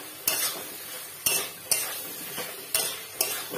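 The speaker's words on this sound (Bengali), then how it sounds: "আমি এবার দুধ কচুর ডাঁটিগুলো দিয়ে দিচ্ছি এতে, এর সঙ্গে ভালো করে কষিয়ে ভেজে নেবো।" Taro stems stir-fry in a pan with mustard paste: a soft background sizzle punctuated by about six sharp spatula scrapes against the pan at irregular intervals.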